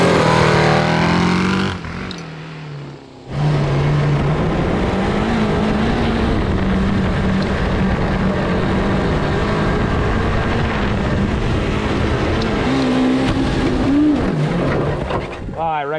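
A 750cc cross kart engine races at high speed, revving and pulling in a loud, close, continuous drone that rises and falls in pitch across shifts, with a brief drop near the start and a voice heard over it.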